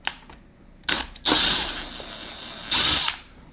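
A power screwdriver or drill unscrews small Phillips screws from an Apple IIe power supply in two short, loud whirring bursts, with a few clicks before and between.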